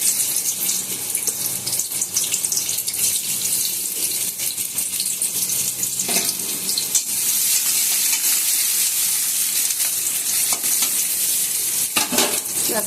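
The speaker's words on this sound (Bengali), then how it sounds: "পেঁয়াজটা একটু লাল লাল করে ভেজে নেব" Chopped onions fry in oil in a kadai for a stuffed potol dish, giving a steady, close, dense sizzle with faint scraping. It continues unbroken for the whole stretch with no voices.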